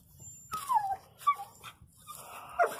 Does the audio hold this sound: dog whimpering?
yes